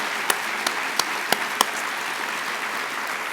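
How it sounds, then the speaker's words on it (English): Applause for the Chief Justice closes a legal aid annual meeting: a few sharp, evenly spaced claps stand out over a thin wash of noise, then fade within seconds. "can we have one more round of applause for the Chief Justice?"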